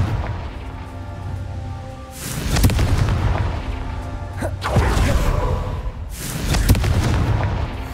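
Confringo blasting spells explode in Hogwarts Legacy, with three heavy booms spaced about two seconds apart. Each blast is loud and close, with a whooshing rumble that lingers before the next strike.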